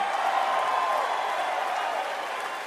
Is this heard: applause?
yes